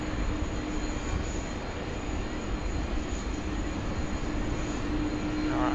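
Qantas jet at Sydney Airport preparing for departure, its engines giving a steady, continuous roar with a faint high whine over it, constant in level throughout and with no talk.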